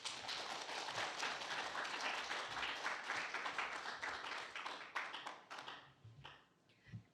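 A lecture audience claps after a talk on curing cancer by a Chungbuk National University medical professor. The applause is dense and sustained, then thins into scattered claps and fades out over the last two seconds.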